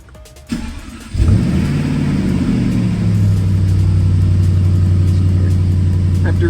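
A tuned 700HP Jaguar super sedan fires up after a fresh tune flash: a brief whir and click, then the engine catches with a loud flare and settles into a steady, deep, close idle rumble.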